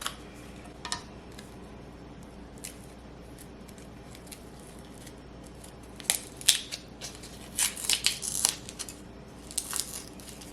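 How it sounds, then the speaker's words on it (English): Scissors snip open a hardened MRE instant coffee packet, giving faint, close crinkling and several sharp clicking cuts that cluster toward the end over a steady low background hiss. "I'm just gonna cut it open and see."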